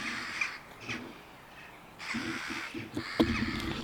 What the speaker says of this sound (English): there's a crow doing weird stuff there